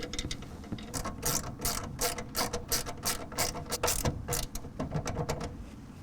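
Rapid ratchet clicking in quick bursts, close and loud, as Torx bolts are driven up into the brackets of a retractable truck bed cover on a 2025 RAM 1500, with no talking.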